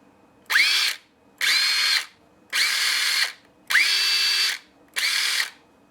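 A Snap-on CT761 3/8-inch cordless impact gun runs its motor free in five short bursts of roughly equal length. Each burst spins up with a rising whine, holds a steady high buzz, then cuts off into brief silence.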